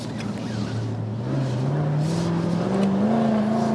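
A Jaguar F-Type V8 P450 R-Dynamic cabriolet accelerating in second gear, its engine note climbing steadily and loud throughout, a deep rising drone with the rear stepping out slightly.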